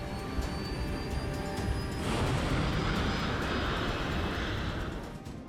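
Airliner engines roar during the takeoff run and lift-off from the runway, a loud, broad, continuous rush that swells midway and holds steady without talk.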